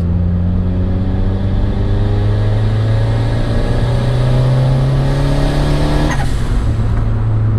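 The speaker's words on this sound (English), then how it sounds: "I'm gonna go ahead and drop it down into third. Give it a little bit of gas." A turbocharged Honda Accord, shifted down into third gear, pulls hard under load. Its engine drone rises steadily in pitch, heard loud and close from inside the car, with a brief change in tone near the end.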